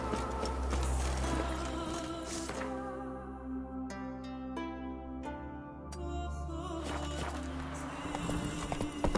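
Horse hooves clip-clop in The Witcher 3, a steady close rhythm of hoofbeats under music and ambient game sound, with a short break before the hooves pick up again.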